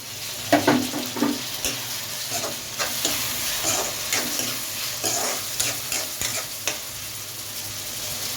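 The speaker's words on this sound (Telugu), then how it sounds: "ఉల్లిపాయలు మనకి మంచిగా బ్రౌన్ కలర్లోకి వచ్చాయి కదా, ఇప్పుడు మనం ఇందులో టమాటాస్ వేసుకున్నాం." Tomatoes sizzle in hot oil with browned onions, a steady close frying hiss punctuated by repeated scraping stirs of a spoon against the pan.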